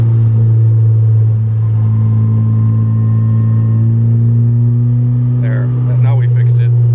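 A turbocharged B18 non-VTEC engine in an EK Civic hatch runs on a dyno with a loud, steady droning note at light throttle that holds nearly constant, and a voice briefly breaks in near the end.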